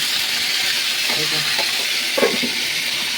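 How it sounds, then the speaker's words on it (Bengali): Potatoes and pointed gourd fry in hot oil in a home kitchen, giving a steady, even sizzle and hiss throughout, with a few faint clinks of stirring. "এই যে আলুর দমের আলু ভাজা চলছে আর এখানে হচ্ছে পটল ভাজা"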